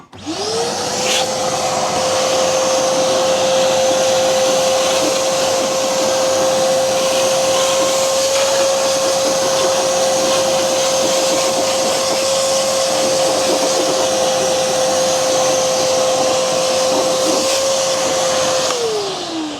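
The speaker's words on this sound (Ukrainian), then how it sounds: "даний пилосос може збирати не тільки вологу, яка розлилася" A wet vacuum cleaner whirs up, runs loudly with a steady motor whine for about twenty seconds, then winds down.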